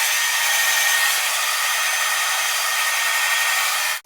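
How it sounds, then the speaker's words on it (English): A hair dryer blow-drying hair with a round brush gives a loud, steady, close airy whoosh that holds for about four seconds before cutting off abruptly. "I will brush and blow dry my hair from side to side"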